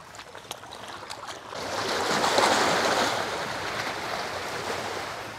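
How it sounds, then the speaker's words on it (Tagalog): Waves crash against a rock breakwater built to shield seaside houses in a Philippine province, a soft wash that swells into a sustained roaring surge of broken water and then slowly ebbs, heard from nearby. "Yan, yung mga hampas po ng alon."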